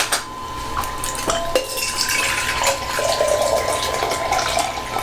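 C-41 film developing chemicals drain out of a developing tank, a close, continuous trickle and splash of liquid with faint clinks of the container, no talking.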